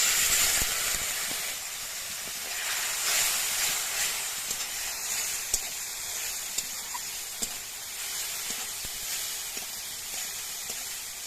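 Water poured onto chilli powder and turmeric frying in oil in a pan, giving a steady steamy hiss and sizzle that lasts throughout with small crackles, close and fairly quiet, with no talking.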